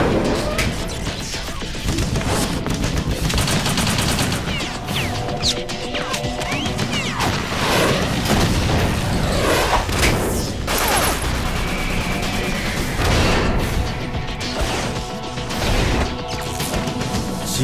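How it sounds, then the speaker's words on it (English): Submachine gun fire in the PlayStation 3 version of Metal Gear Solid 2: Sons of Liberty comes as loud, dense bursts of rapid shots and crashing impacts that carry through the whole stretch, with game sounds layered underneath. "Shooting them with a submachine gun."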